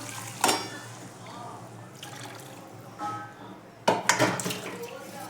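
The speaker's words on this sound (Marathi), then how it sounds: "आता मी पाणी ओतते. पाणी ओतत आहे मी. गरम आहे." Hot water is poured into a cooking pan of drumstick curry in short splashing bursts, with clinks of the vessel and quiet talking in between.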